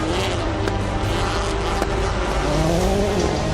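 Rallycross race cars run flat out on a dusty track, their engines roaring loud and continuous with shifting pitch and a passing whine.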